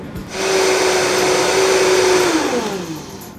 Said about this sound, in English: We're going to blend this into a Vita Prep to make a nice, smooth, silky puree.